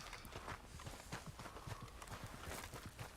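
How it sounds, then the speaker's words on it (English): Horse hooves clip-clop in Red Dead Redemption 2 as a rider passes, a quick, uneven run of soft knocking hoofbeats, faint and steady throughout. "That's a man riding a horse."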